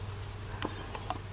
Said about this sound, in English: We've been watching these bees here balling a queen for, it's almost been 2 hours now.